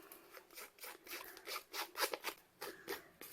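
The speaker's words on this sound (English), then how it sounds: "I might just cut this in half" Scissors snip through paper for a mini album page in a quick, close series of crisp, rhythmic cuts, fairly quiet and with no talking.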